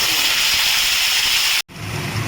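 Whole spices and bay leaves, followed by ground spice paste, sizzle in hot oil for a chingri malaikari prawn curry, giving a loud, steady, hissing fry that cuts out briefly near the end and then resumes.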